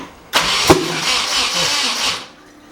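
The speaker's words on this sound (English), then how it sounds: "you got a pop and a little bit of smoke coming right out underneath the intake manifold" A turbocharged Nissan 240SX engine cranks and catches with a sudden sharp backfire pop near the start, followed by a rough, revving run that cuts off after about two seconds.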